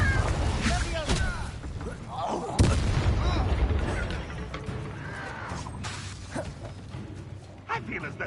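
Incendio and Confringo spells cast in Hogwarts Legacy, fiery whooshes and blasts bursting repeatedly amid battle noise, with a sharp bang near the middle and a voice speaking over the action.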